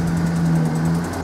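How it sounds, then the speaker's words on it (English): An old silver Chevy Silverado engine idles with a broken exhaust manifold bolt, a steady close rumble with a low hum and faint rapid ticking running through it. "She's listen to the tick on the exhaust manifold of the old silver Chevy Silverado"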